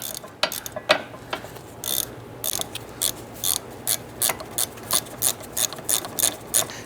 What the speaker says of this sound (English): I'm just going to go ahead and snug these caliper bracket bolts down